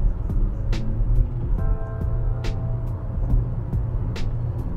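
Wuling Almaz 2020 car cornering at fairly high speed, with a steady low cabin rumble of road and engine noise and a few sharp, evenly spaced ticks layered on top.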